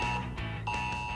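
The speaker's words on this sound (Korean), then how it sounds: "이렇게 실시간으로 전류나 전압값에 불안정이 생기거나 누설 전류가 생기면 실시간으로 PC나 핸드폰으로 이렇게 알람이 오게 됩니다" An AI electrical safety monitoring system sends an alarm notification to a phone or PC, heard as a close, clear electronic chime repeating in quick two-tone bursts.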